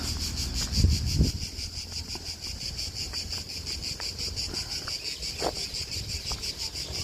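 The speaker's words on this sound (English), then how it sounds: "you may hear the crickets, right?" Crickets chirp in a constant, pulsing high trill on Janiculum Hill in Rome, steady and moderately near, with light wind noise on the microphone and a few brief handling bumps.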